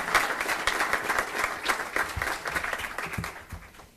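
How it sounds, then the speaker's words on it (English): Audience applause for special guests and industry partners at a technical college signing day event: steady, dense clapping from a sizable crowd, tapering off toward the end. "let's give our special guests and our partners a round of applause"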